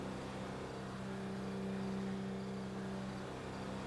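A car drives steadily through a GTA roleplay game world, its engine a constant drone at even loudness for the whole stretch, with no talking over it.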